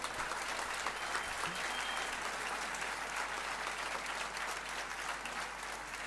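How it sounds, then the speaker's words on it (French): Steady applause from a political assembly audience fills the hall, dense and continuous at an even level throughout with no talk over it. "Vous pouvez aussi l'applaudir."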